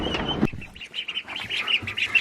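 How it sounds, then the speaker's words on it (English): Ducks quacking and squawking close by in a room, a string of short calls following a brief burst of noise at the start, with faint movement underneath. "Wait, are those new ducks?"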